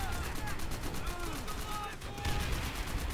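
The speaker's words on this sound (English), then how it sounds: "These mounted guns always feel like they're shooting air half the time" Mounted machine gun firing steadily in the Call of Duty: World at War campaign on Veteran difficulty, a dense continuous rattle of rapid shots with no pause across the clip.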